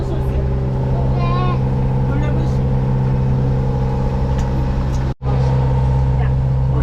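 A sailboat motors under engine power between Cat Island and Eleuthera, its steady inboard drone humming loud and constant throughout, with a brief dropout near the end and faint voices in the background.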